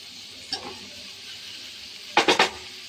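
Chopped tomatoes dropped into a hot pan for tomato rice, a soft splash then a steady low sizzle, followed by three quick scraping stirs near the end.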